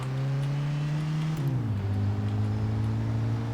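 Steady low engine drone from a Lassiter Series 75 limousine-wagon in Mafia 2, holding a near, continuous hum that dips in pitch midway as if shifting gears, with no talk.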